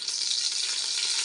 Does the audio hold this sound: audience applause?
no